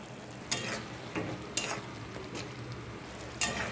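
Boiled soybeans fry in a pan of spice paste made with sugar, turmeric, chili powder and cumin, giving a steady low sizzle broken by occasional scraping stirs, close and moderately quiet.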